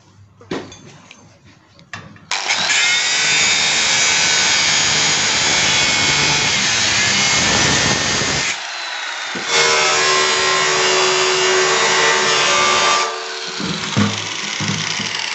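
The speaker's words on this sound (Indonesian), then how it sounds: "Coba kita cek dengan gerinda seperti apa" An angle grinder grinds stainless steel salvaged from a sprayer tank, loud and close, running in two long bursts of harsh, bright screeching with a short drop in between.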